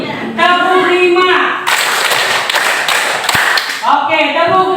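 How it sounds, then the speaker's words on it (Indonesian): A classroom group claps hands together in a quick five-clap pattern, sharp and loud at close range, with a voice speaking just before and after the claps. "Fokuskan lagi. Tepuk 5."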